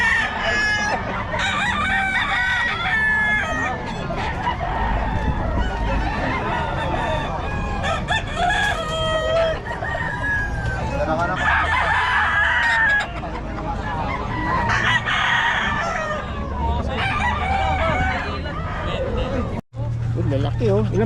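Roosters crow repeatedly and chickens cluck at close range at a poultry sale, over a steady babble of people talking throughout.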